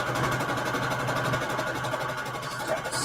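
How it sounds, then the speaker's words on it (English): A sewing machine runs steadily stitching a straight line along a ribbon, a continuous close mechanical whir with a rapid even needle pulse throughout, no talking. "I am going to just sew one straight line to the right of the zigzag stitch of the whole ribbon"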